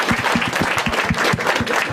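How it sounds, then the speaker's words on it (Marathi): An audience at a Marathi stand-up comedy crowd-work show claps together, a close, steady burst of applause with brisk individual hand claps, lasting about two seconds with no talk. "एकदा टाळ्या वाजवा राणेसाठी."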